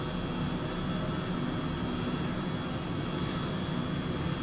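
A Hype Performance H135 helicopter in Microsoft Flight Simulator over Sydney gives a steady, dense turbine roar with a faint high whine, constant and loud throughout, with no talk.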